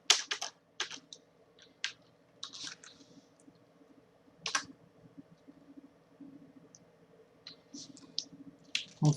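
A computer keyboard and mouse in use during a JavaScript coding lesson: quiet, close, irregular bursts of key taps and sharp clicks, some clustered and some isolated, across a mostly silent background.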